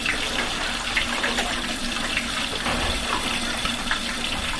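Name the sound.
tap water being poured into a pot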